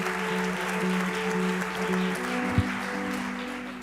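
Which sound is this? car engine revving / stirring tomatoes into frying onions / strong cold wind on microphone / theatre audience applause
theatre audience applause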